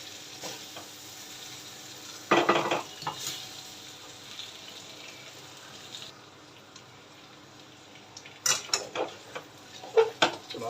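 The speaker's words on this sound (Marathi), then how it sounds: "थोडंसं आपण त्याला खालीवर करून घेऊया, जेणेकरून तेलामुळे ते थोडंफार शिजते" Ground masala sizzles softly in oil for stuffed okra while a spoon turns it over, low steady frying broken by a few louder scraping strokes early and a cluster of clinks near the end.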